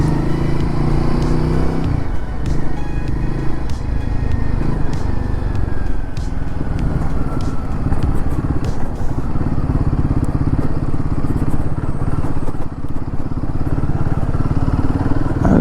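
Royal Enfield Guerrilla 450 motorcycle ridden through a ditch, its engine a steady, close rumble with clatter and crackle from the rough ground, loud and continuous throughout.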